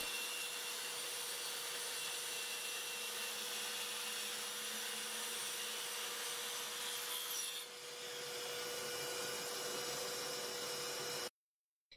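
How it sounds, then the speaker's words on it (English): A Skil 5330 multisaw cuts steadily through 18mm plywood, a loud, continuous whining motor and blade rasp that holds evenly for about eleven seconds, dips briefly midway, then stops abruptly. "the saw isn't struggling at all with this 18mm plywood"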